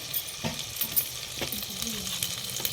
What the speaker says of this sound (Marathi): काळा मसाला आणि काळं तिखट हे दोन्ही आपलं त्याच्यामध्ये टाकून छान परतून घ्यायचं आहे तेलामध्ये